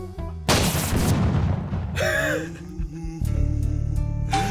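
A shotgun blast in a Buckshot Roulette-style death roulette video game: one loud, booming shot with a long rumbling tail, then quieter in-game mechanical clicks and tones.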